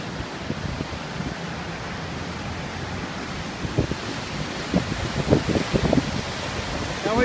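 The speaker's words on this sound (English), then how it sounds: "Now, as you can see, the waves are coming in." Steady surf roar of ocean waves rolling onto a beach and bouncing off a wall, with several louder breaking splashes toward the end and faint wind rumble throughout.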